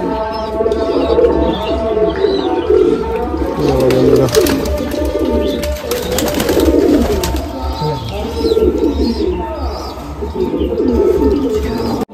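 A female Madrasi pigeon coos in low, repeated throaty phrases close by, with faint chirps from other birds behind and someone speaking briefly over them.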